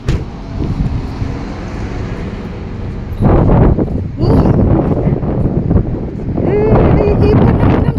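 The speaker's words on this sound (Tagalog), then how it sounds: "Naiipan ako ng hangin." Loud wind roars and buffets the microphone outdoors in cold weather in Sonoma, California, growing rougher after a few seconds, with faint rustling and a brief tonal sound near the end.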